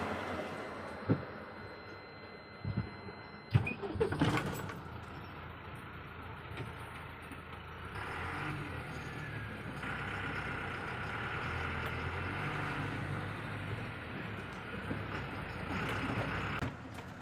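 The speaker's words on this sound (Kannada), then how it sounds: "ಗಾಡಿ ಸ್ಟಾರ್ಟ್ ಮಾಡ್ಕೊಂಡು ಹೊರಡ್ತಾ ಇರೋದು" A truck engine starts with a few sharp clunks and a cranking burst, then settles into a steady, moderately loud running drone as the vehicle moves off, with slight rises in pitch as it accelerates.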